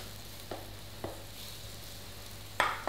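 Onions frying in hot oil in a pan give a faint, steady sizzle, broken by a few brief clatters of stirring, quiet and without speech.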